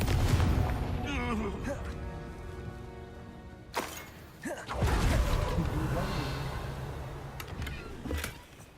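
A Confringo fire spell cast in Hogwarts Legacy bursts as a loud explosive boom amid a busy stretch of game combat effects and music, with a second blast-like surge later in the clip.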